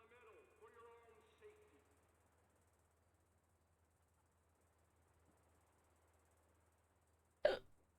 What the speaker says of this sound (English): And hiccups.